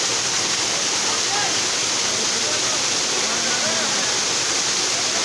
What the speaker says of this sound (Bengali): দেখছেন পাহাড়ের ঝর্ণা